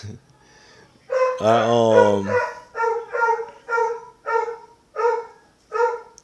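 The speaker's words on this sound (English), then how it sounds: "dog just keeps barking" A dog barks repeatedly nearby, starting with a drawn-out howling yelp followed by a steady series of sharp, evenly spaced barks.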